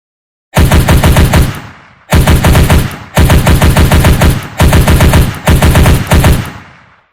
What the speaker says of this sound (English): Now you should have this effect when you shoot.